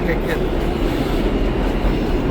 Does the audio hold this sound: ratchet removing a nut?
no